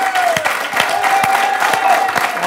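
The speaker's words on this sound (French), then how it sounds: "Applaudissements mérités!" A studio audience applauds on the French quiz show Questions pour un champion, a brief burst of clapping with a steady tone held underneath.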